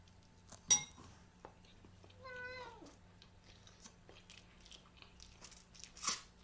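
A cat gives one drawn-out meow with a falling pitch in a home kitchen where garlic bread is being eaten, near and clear, set among soft clinks of dishes and a couple of sharper knocks.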